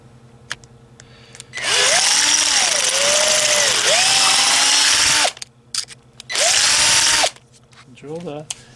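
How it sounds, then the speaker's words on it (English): An electric drill with a 1/4-inch bit whines loudly drilling a pilot hole in a concrete wheel weight of a Craftsman lawn tractor, its pitch rising and dipping as it bites, in two long bursts separated by a short pause. "I'm gonna use a 1/4-inch drill for the pilot hole."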